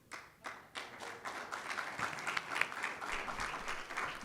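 Applause from a conference audience: a few scattered individual claps at first, quickly swelling into sustained, dense clapping that continues to the end at moderate volume.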